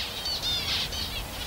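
Finches twitter in quick, high, overlapping bursts close by, with a soft fluttering texture under the calls.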